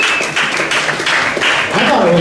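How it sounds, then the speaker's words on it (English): An audience at a Denver roast battle comedy show applauds the two competitors, a dense, loud burst of clapping close by that runs through the whole moment. "another round of applause for these two"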